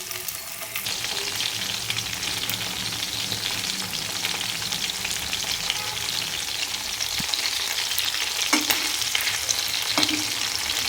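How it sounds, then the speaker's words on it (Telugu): Chicken pieces fry in a few spoons of oil for garlic chicken, a steady dense sizzle running throughout with a few light stirring clinks near the end. "చికెన్ పీసెస్కి ఒకటిగా వేసుకొని లైట్ బ్రౌన్ కలర్ వచ్చే వరకు లైట్గా వేగనివ్వాలి."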